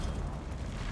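A Confringo explosive spell cast in Hogwarts Legacy produces a dense, rumbling low-end blast that holds steady for about a second at moderate volume, with no talking.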